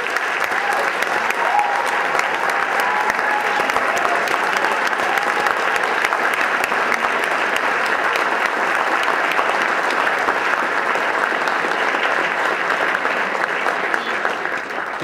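Applause from a large audience at a Martin Luther King Jr. breakfast ceremony, a dense steady clatter of many hands clapping continuously without pause, loud and evenly sustained throughout.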